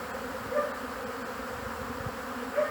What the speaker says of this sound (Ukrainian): бджола літає. Досить потужно.